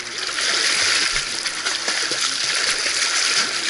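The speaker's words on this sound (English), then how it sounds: "Kick the water with your legs." A child kicking the water with their legs during a swim lesson, giving steady splashing and sloshing at a pool with no break.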